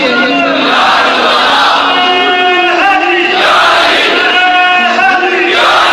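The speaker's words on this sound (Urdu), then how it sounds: "آج تو دن ہے نا نعرے لگانے." Crowd at a religious gathering about the Battle of Badr chanting slogans in unison, loud sustained voices rising and falling in repeated phrases, close and filling the whole stretch.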